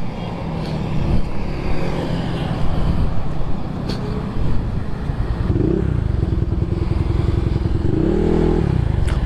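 A bored-up Honda PCX 160 scooter is ridden with a continuous loud engine drone and rumbling road noise, rising in pitch twice toward the end as it accelerates.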